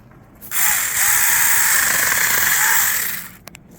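A Saker Mini electric chainsaw cuts through a cedar branch outdoors, the motor whining up to a loud, steady buzzing drone for about two and a half seconds before winding down, followed by a couple of faint clicks.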